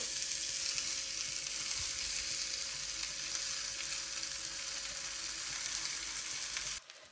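A ghee-smeared paratha fries on a hot tawa griddle, giving a steady, close, even sizzle that holds for several seconds before cutting off abruptly at the end.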